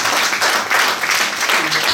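An audience at a lovers rock discussion event breaks into applause, a dense, even wash of many hands clapping that holds loud and steady for about two seconds.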